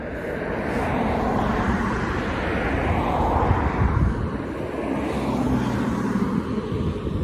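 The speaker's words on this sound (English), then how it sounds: "That's about as low as I can get the drone" A small camera drone hovers low overhead between buildings on a UK street, its steady whirring hum holding at an even level throughout, with wind rumble on the microphone.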